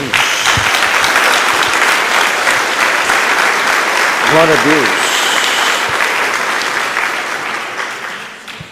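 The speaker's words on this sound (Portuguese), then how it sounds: "Dê uma salva de palmas a Jesus." A church congregation at a Christian service bursts into loud, close applause that carries on for several seconds, with a voice speaking over it midway and the clapping tapering off toward the end.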